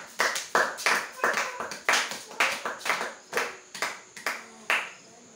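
A church congregation claps in praise during a Pentecostal service, a steady rhythmic run of about a dozen sharp, fairly close claps over roughly five seconds.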